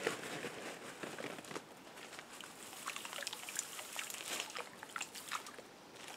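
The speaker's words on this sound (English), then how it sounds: "grab some of this salt and just put it right in the water" Salt poured by hand into pond water, a close, quiet granular trickle and crinkling patter with irregular bursts that continues for several seconds.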